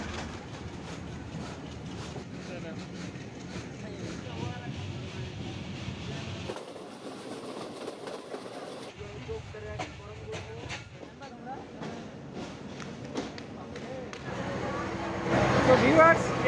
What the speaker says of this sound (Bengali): অবশেষে ঈশ্বরদী জাংশন থেকে রাজশাহীর উদ্দেশ্যে আমাদের এই টুঙ্গিপাড়া এক্সপ্রেস ছেড়ে দিল